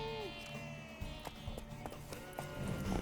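Horse hooves clip-clop in a steady run in The Witcher 3, faint and rhythmic beneath louder game voices and music.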